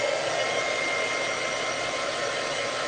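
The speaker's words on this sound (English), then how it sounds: "And I'm only drying it with my heat gun" Heat gun drying a craft project, a steady close whooshing blower hiss held constant with no voices.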